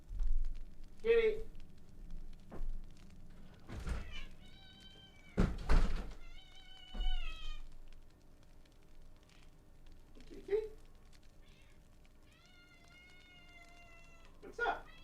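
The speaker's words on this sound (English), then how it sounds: "Kitty's meowing." A domestic cat meows repeatedly and close by, in drawn-out whiny calls spaced across the stretch, with a few dull thumps and a person talking at times.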